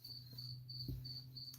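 A Gryllus field cricket chirps in steady, evenly spaced bursts, faint and continuous against a quiet indoor background with no talking.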